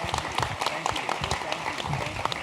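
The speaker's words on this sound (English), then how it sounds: "Please, a round of applause, if you would," An audience at a stadium announcement event applauds in a steady, dense patter of many hands that lasts the whole stretch, with a voice faintly under it.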